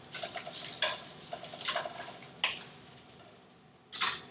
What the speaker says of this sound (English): Add a quick toss.